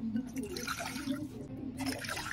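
Water is poured to dissolve gulaman gelatin powder and flavored white jelly mix, giving a steady close trickle and splash that runs throughout.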